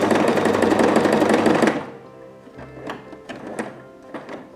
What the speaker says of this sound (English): Now again set the pattern dial to straight stitch and do a few stitches.